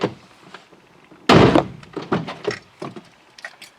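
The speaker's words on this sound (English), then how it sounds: "close the door, open, close, open, twice" A Toyota FJ Cruiser door slams shut with a loud, solid thunk, followed by several softer clicks and bumps of the latch and handle nearby.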